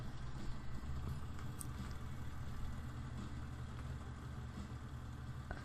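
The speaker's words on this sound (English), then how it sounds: "the tractors sound pretty darn good. That John Deere sounded pretty convincing, I gotta say." A John Deere tractor engine in the farming game Professional Farmer 2014 runs steadily with a low, continuous idling drone, loud and close, with no talk over it.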